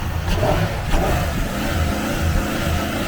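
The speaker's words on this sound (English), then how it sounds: "naturally aspirated, proper big boy motor. Sounds really nice." A naturally aspirated Chevrolet Suburban engine revs close by, a steady deep rumble that rises and swells in a few throttle blips over about three seconds, with no talking.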